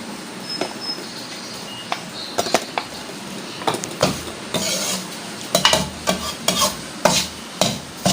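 Semolina roasting in ghee for panjiri, stirred with a spoon, gives off soft scraping and clinking strokes at an irregular rhythm over a faint background hiss, with no talking.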